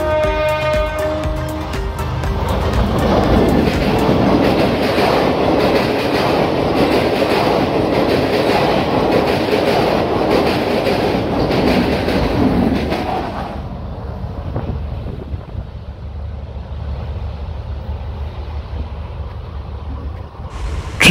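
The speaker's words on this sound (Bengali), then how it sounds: "দুরন্ত গতিতে ট্রেন আসতে দেখলাম।" A train races past a closed level crossing beside Hollongapar Gibbon Sanctuary, its loud rumble and rhythmic wheel clatter close and continuous for about thirteen seconds before dropping abruptly to a fainter receding rattle.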